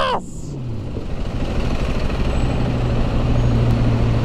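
A truck with a loud, modified exhaust rumbles close by. A hiss like an air brake opens the sound, then a deep engine drone builds steadily and stays loud to the end.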